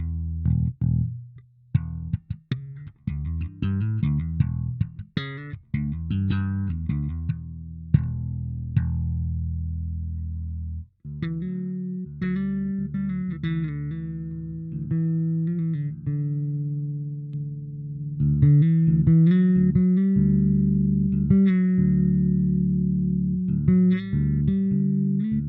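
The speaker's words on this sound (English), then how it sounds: "if we turn the preamp off, then it's a boring bass" A Marcus Miller V3 five-string jazz bass plays with its preamp switched off, giving a run of plucked, sustained low notes and melodic phrases, some ringing long, heard close with no voices.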